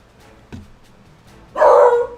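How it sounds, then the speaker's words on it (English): A single pet dog barks indoors during a Pokémon game stream, one loud, fairly close bark about a second and a half in, following a faint earlier yip, with no talk over it. "My dog is barking."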